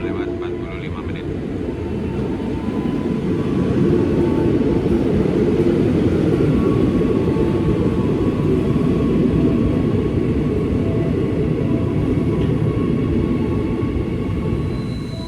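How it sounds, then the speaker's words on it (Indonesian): An airport rail train pulls into the station, a loud, steady rumble and rolling hum that swells and holds throughout, with faint squeals above. "ini keretaku datang jam 6:35"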